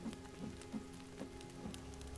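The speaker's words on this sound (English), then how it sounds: "It's raining." Rain falls in the survival video game The Forest, a faint continuous patter with light drop ticks spread evenly across the moment, no voices over it.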